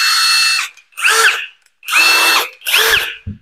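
Deadton hammer drill driver with three torque settings runs in four loud, close bursts of about half a second each, spinning up and winding down between short pauses, with no talk.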